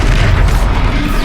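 The Expelliarmus spell cast in the video game Hogwarts Legacy lands as a loud, deep boom that fills the short moment, dense and heavy with low rumble.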